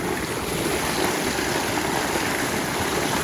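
Water pours steadily from a farm tube well in a mango orchard, a loud, continuous rushing wash close to the microphone with no break and no voices.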